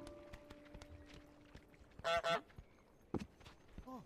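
Cartoonish goose honks from Untitled Goose Game: a loud double honk burst in the middle, then a sharp single honk and a softer call near the end, over quiet game ambience.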